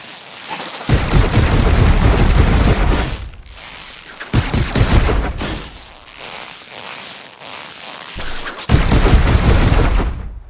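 Sustained bursts of rapid weapon fire in the VR shooter Swarm 2, three long loud volleys separated by brief quieter gaps with whooshing game sounds.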